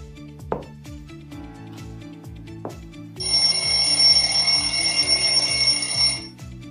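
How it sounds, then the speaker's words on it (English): A countdown timer ticks steadily during an education summit session, then a bright electronic alarm rings for about three seconds before cutting off, with no talking. "I will set a timer for 10 seconds"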